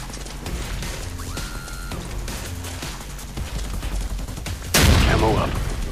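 Dense video-game gunfire from a military shooter, including light machine gun fire, rattles in continuous bursts, with a louder blast near the end and voices talking over the combat.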